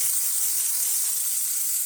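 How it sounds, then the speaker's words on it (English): The steam wand of an ECM Technika V espresso machine, running off a big boiler after a full tune-up, gives a steady, loud, unbroken high hiss that holds evenly throughout, with no voices. "we turn this on, get really good steam coming out"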